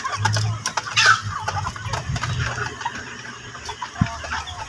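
Several chickens cluck and chatter nearby in irregular bursts, with a faint voice and outdoor background noise.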